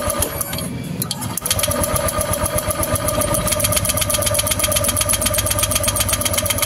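A Honda Vario 150 scooter cranks on its electric starter without firing, a loud, fast mechanical whirring that runs on evenly after a brief rough start, close and alone.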